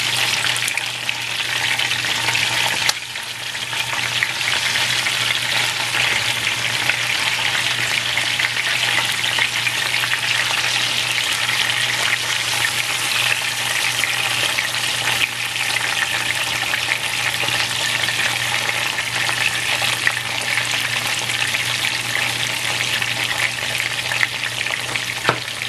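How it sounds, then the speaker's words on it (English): Chicken fries in a pan over low heat for enchiladas michoacanas, a steady close-up sizzle and crackle of hot oil with occasional stirring. "we're basically frying the chicken"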